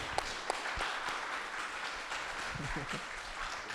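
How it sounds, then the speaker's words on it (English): A live audience at a debate on evil and suffering applauds a speaker, a dense, even roar of clapping with a few sharp individual claps and faint voices beneath. "Let's give a round of applause to Elliott, please."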